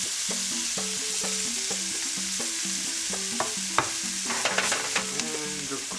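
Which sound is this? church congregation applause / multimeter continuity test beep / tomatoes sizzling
tomatoes sizzling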